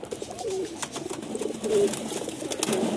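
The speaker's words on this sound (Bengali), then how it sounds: "এই যে পায়রাগুলো আছে দেখে নিন" Pigeons in a loft kept for sale coo softly in three or four low, throaty calls, close by over a background of rustling and light movement.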